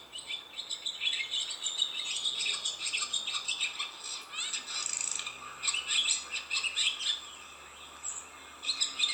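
Birdsong of several chirping and warbling birds, played back as a recording, continuous and fairly loud with no talk over it.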